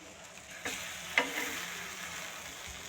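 A capsicum omelette being flipped in a frying pan, a soft scrape and thump of the turn over a steady, quiet sizzle, with no talking.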